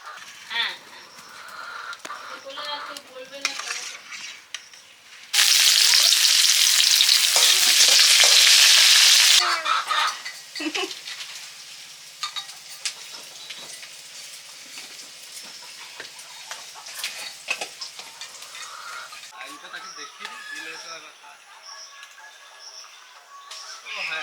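A loud burst of sizzling as whole spices hit hot oil to temper boiled whole mung dal, a steady hiss for about four seconds that then dies back to quieter kitchen clatter and stirring, with voices talking around it.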